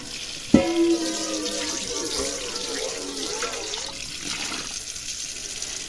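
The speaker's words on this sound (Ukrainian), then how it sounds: "Раз морку вже перемила, зараз ще раз перемию." Tap water runs into a sink while carrots are rinsed again, a steady close splashing stream after a sharp clatter at the start, with someone talking over it.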